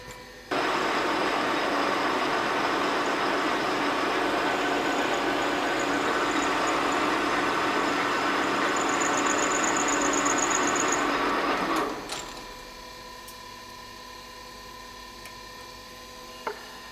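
Lathe turning a metal workpiece, reducing its diameter to about 50 millimetres in a workshop demonstration. A steady, loud machining roar holds for about eleven seconds, then winds down, leaving faint ticks and a brief click.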